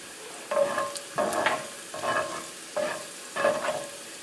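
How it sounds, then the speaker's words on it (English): Moose meat frying in oil in a pan, stirred in five rhythmic strokes. Each stroke brings a burst of close scraping and sizzling, with a low steady fry between strokes and no voices. "And just mixing around, make sure all the flavors are getting throughout the oil."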